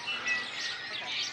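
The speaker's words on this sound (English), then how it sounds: "The birds are super active and super loud." Many birds chirp and tweet loudly and continuously in Ensenada, Mexico, a dense, close chorus of overlapping high calls with no talking.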